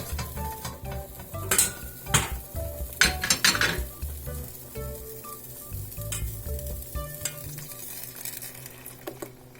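Ground tomato hitting melted butter in a pan for creamy fusilli, sizzling under clanks of a spoon against cookware and brisk stirring, with louder clatter early on that eases into a steadier fry.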